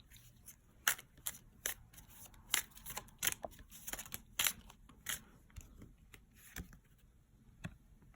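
Crisp, irregular riffles and snaps of a tarot card deck being shuffled, close and quiet, with scattered sharp flicks.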